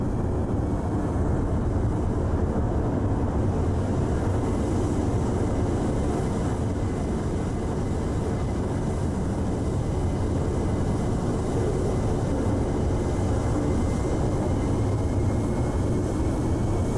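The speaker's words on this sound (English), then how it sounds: "And the bombers are returning." Bomber aircraft returning in the naval warfare game Sea Power, a steady low broadband engine drone that holds at constant loudness for the whole stretch, with no talk over it.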